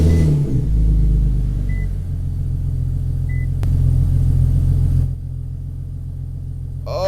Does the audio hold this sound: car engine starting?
yes